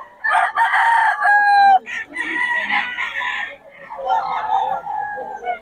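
A gamefowl bull stag rooster crows loudly and close by, giving two long ringing crows with clucking between them, while someone speaks in the background.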